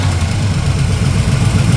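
A carbureted engine idling close by, a loud steady low rumble with a slight uneven pulse as it settles down after a throttle blip.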